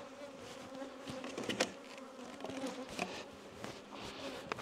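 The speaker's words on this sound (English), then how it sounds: "A lot of bees in here." Honey bees buzzing densely inside a polystyrene hive during a colony split, a steady close swarm drone with scattered louder passes and light handling knocks, no talking.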